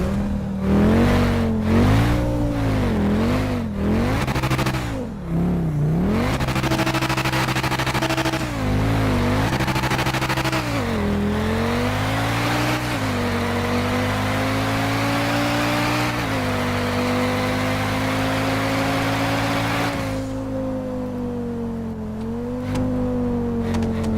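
Old track-focused sports wagon in GTA Online, engine revving hard through rising and falling sweeps and gear changes, then settling into a steadier high drone, loud and close with no talking.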